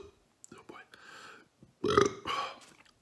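A man burps after eating a Carolina Reaper hot pepper chocolate bar. A faint hiccup comes first, then a loud, close belch and a shorter second one, with hushed talk around them.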